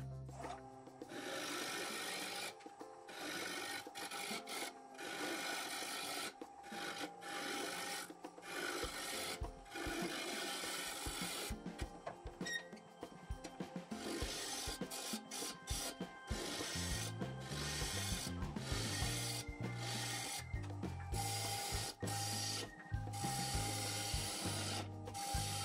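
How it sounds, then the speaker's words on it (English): Maple spinning on a lathe at 1000 RPM while a 3/8 inch bowl gouge makes a pull cut, giving a steady close rasping scrape with a shifting tone and short gaps between passes, no talk. "I'm going to use a pull cut with my 3/8 inch bowl gouge."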